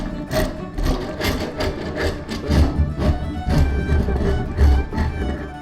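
Rasp filing the stock of a handmade wooden speargun: steady, rapid scraping strokes in a rough rhythmic pattern, close up and continuous.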